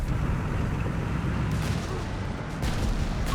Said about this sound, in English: Crusader there remains a massive obstacle there with its Bofors 40mm anti-aircraft gun.